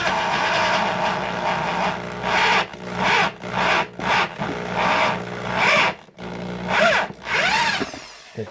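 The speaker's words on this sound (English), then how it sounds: "I could feel when the drill didn't want to go any further" A drill bores bolt holes into the wooden neck of a Stratocaster guitar, whining in repeated short bursts with pauses between, each run straining and slowing as the bit bites deeper.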